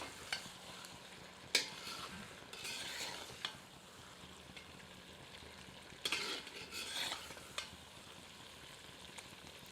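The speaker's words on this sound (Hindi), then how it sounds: "इसे धीमी आंच पर 10 मिनट तक भूनते रहते हैं और बीच बीच में करछी चलाते रहते हैं" Chicken masala fries slowly over low heat in a copper lagan while a ladle stirs it. A soft continuous sizzle sits under scattered scraping strokes, with a few louder metal scrapes standing out and no one speaking.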